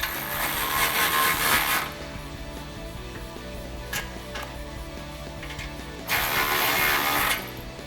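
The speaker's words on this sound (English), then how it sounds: "But we're using a 15mm deep socket" A ratchet with a 15mm deep socket turns the clamp nuts on an MBRP 3-inch dual exhaust system fitted to a Chevy Silverado 1500, giving two loud bursts of rapid clicking with a quieter stretch of mechanical handling in between.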